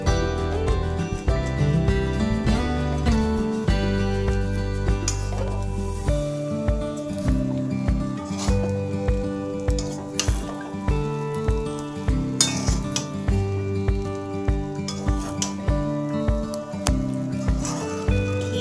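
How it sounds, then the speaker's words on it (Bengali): Garam masala being stirred into a fish head curry in a pan, with steady sizzling and frying under repeated light clinks and scrapes of a spoon against the pan, close and continuous. "গরম মশলাগুলোটা উপরে ছড়িয়ে ভালো করে মিশিয়ে নেব।"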